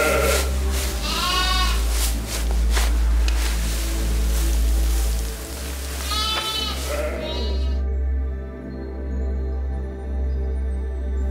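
Lambs and sheep bleat on a salt-meadow farm in the Baie de Somme, with several clear, wavering calls near the start and middle over a steady low hum, with no talking.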